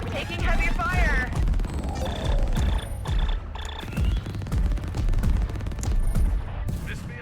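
Heavy gunfire in the video game The Fall of Aether Station, rapid bursts of shots and impacts in a chaotic battle mix, with someone talking over the fighting.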